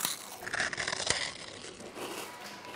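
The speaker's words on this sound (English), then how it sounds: "The best part about the 1UP freeze-dried is the crunch." Crunching of 1UP freeze-dried candy being bitten, a dense crackly burst of crisp snaps close to the mic, loudest around the middle, then fading into softer crinkling.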